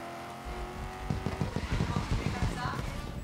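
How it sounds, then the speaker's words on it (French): A GT4 race car engine in the racing video game GRID drones and revs near and loud, with rumbling pulses building midway, while someone talks over it. "ce GT4 fonctionne particulièrement bien"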